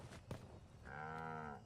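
A cow mooing in the video game Dragon's Dogma II, a faint short low moo after a few soft thumps and clicks.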